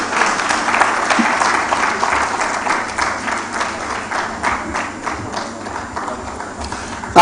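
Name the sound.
audience applause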